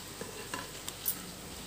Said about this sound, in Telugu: ఆయిల్ హీట్ అయిపోయింది, ఇప్పుడు మనం బజ్జీలు వేసేసుకుందాం.